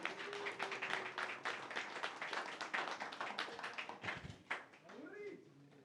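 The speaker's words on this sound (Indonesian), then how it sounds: "Boleh minta tepuk tangannya?" An audience at a book discussion event in Madura claps in brisk applause that fades toward the end, close and fairly lively, with some voices heard over the clapping.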